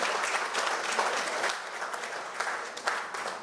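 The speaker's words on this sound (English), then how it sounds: "Do give them a hearty round of applause again." Crowd at a political party constituency conference applauds as a new executive is sworn in, a dense, even wash of clapping from a hall full of people, steady and unbroken throughout.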